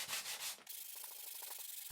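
Iroko hardwood, reclaimed for a three-pot planter, sanded by hand with a steady back-and-forth rasp; a dense burst of broad friction gives way to quicker, lighter strokes, close and alone with no talking.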